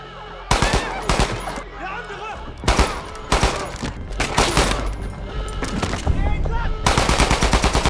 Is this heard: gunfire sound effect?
yes